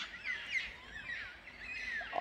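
Distant, faint screeching calls of black cockatoos repeat over steady outdoor background noise in a backyard garden, several harsh cries in a row.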